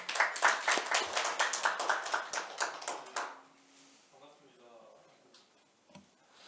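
An audience claps for a speaker at a Korean National Assembly forum on metaverse legislation, with a brisk burst of handclaps lasting about three seconds before it quickly fades into quiet room tone with faint talk.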